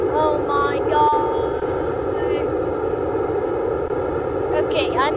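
A steady, loud airplane engine drone in a Roblox game fills the whole clip, a constant roaring hum with faint higher whines drifting in and out.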